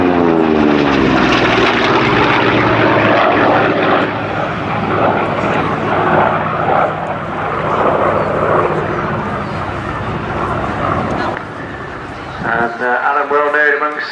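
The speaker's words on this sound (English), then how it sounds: "the fabulous sound and sight of the Corsair with Alan Way coming in from the left" A Corsair fighter plane flies past at the Culdrose Air Day display in the United Kingdom, its loud piston-engine roar rising and sweeping by in a sustained rush, then fading.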